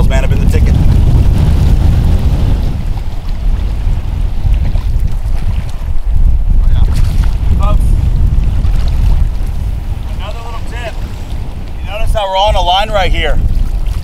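Strong wind buffets a fishing boat on open water, a loud steady roar with wind noise hitting the microphone throughout, and a person talks partway through.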